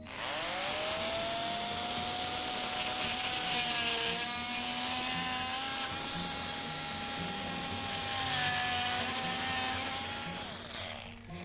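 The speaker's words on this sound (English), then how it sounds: "I just use this little, what is this called? Oscillating saw, to make a little notch in one end." An oscillating saw notches a thin scrap wood spacer, a loud continuous high buzzing whine held close for about eleven seconds, its pitch wavering slightly as the blade bites, with no talk over it.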